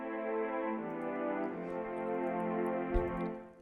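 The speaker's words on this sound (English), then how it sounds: "I got the string from Expand. It's the first string from the strings, that bigger legato strings, and then it sounds like this." Bigger legato strings from Expand in FL Studio sustain a smooth chord that shifts gently, quiet and alone, with a soft thump near the end.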